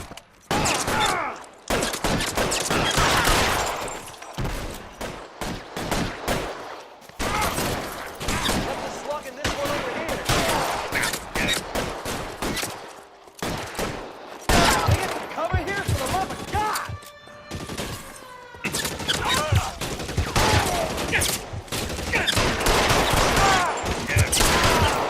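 Gunfire from a 1940s Los Angeles crime video game, L.A. Noire, with repeated shots and bursts crackling through a long shootout, loud and dense, interleaved with gaps and heard under intermittent shouting speech.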